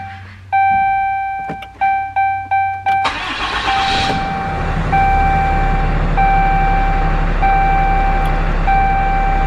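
A 2011 Cummins diesel truck engine cranks and catches at about three seconds, then settles into a loud rumbling idle while a repeating electronic chime keeps sounding; the check engine light is on.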